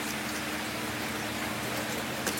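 Heavy rain falling outdoors, a faint, steady broadband hiss of drops without break, heard alone with no voices.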